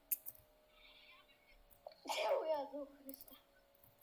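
A single loud, sudden sneeze bursts out close to the microphone in an otherwise quiet room, preceded by faint clicks and soft background sounds.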